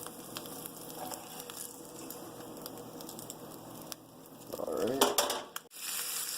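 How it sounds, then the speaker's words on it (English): Bacon sizzles and crackles steadily in a frying pan, with light clinks of a utensil against the pan and a louder burst of spitting fat near the end. "we've already applied bacon to the equation. We're going to let it sit for a little while, sit to simmer."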